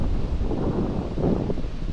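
Outdoor wind buffets the microphone in a steady low rumble, fairly loud and alone for two seconds with no voices.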